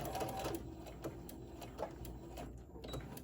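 A sewing machine stitches a crossbody cell phone pouch with a steady mechanical whir, broken by short pauses and restarts of the needle's rapid rattle.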